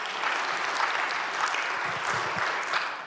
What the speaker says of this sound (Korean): 우리 하나님께 한번 감사의 박수 한번 올려드려야 됩니다